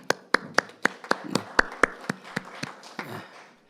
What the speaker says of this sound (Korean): 우리 하나님 앞에 모두 영광의 박수 한번 돌리시겠습니다.